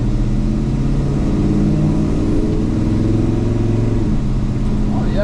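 A 1965 Chevrolet Malibu Chevelle with a big-block 396 V8 on a test drive, its loud, close, throaty engine drone accelerating and shifting through gears without pause.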